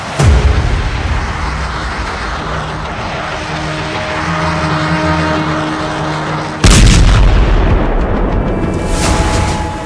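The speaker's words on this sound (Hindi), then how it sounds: "पश्चिमी यरूशलेम में मिसाइल अटैक, तेल अवीव के करीब बेत शेमेश में हमला।" Loud aircraft roar and rumbling blasts with sharp bursts like gunfire during a missile attack near Beit Shemesh and West Jerusalem, Israel; a sustained heavy drone breaks into a sudden louder impact-like burst about two-thirds through.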